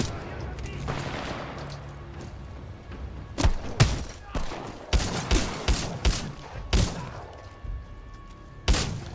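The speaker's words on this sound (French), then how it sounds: "C'est l'ennemi, tire de suppression." Suppressive gunfire in the video game Titanfall 2: bursts of loud, sharp gunshots in quick irregular clusters, with distant firing and faint voices underneath.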